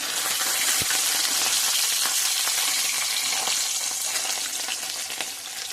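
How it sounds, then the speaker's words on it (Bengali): Fish frying in hot mustard oil, a loud, dense, continuous sizzle with crackling spatter close by and one sharp tap near the start. "আমি সর্ষের তেলে করছি, তোমরা চাইলে সাদা তেলেও করতে পারো। মাছগুলো লাল লাল করে ভেজে নেব।"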